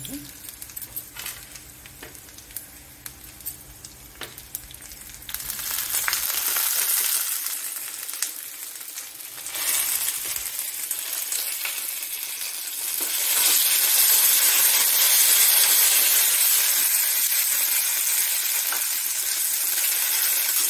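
Cumin and coriander seeds sizzling in hot oil in a pan for a coriander-seed chutney tempering, a crackling, hissing fry that grows louder and brighter, with occasional stirring clinks, close up.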